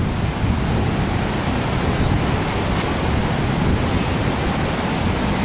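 Large surf whipped up by Hurricane Earl crashes and roars on a Dominican Republic beach near Cabarete, a loud, continuous broadband wash with wind buffeting the microphone.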